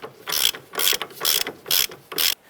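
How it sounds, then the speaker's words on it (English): A hand ratchet tightens the upper control arm ball joint nut on a 2002-2007 Jeep Liberty during front CV axle replacement, five loud bursts of rapid clicking separated by short pauses, close up with no talking. "Let's go ahead and tighten up this upper control arm ball joint nut."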